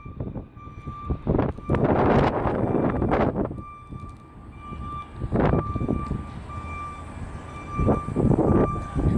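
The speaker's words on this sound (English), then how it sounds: "Oh, here comes that wind again" Gusty wind buffets a microphone outdoors by a federal courthouse in Nashville, Tennessee, with loud, irregular rumbling surges over a faint steady tone.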